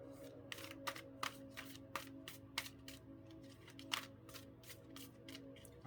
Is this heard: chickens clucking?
no